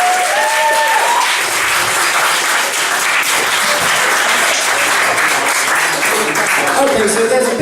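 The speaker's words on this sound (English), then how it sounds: "Big round of applause, Margaret." Big round of applause from a live audience at a Roses 2018 show, dense sustained clapping filling the room, loud and continuous with faint voices mixed in.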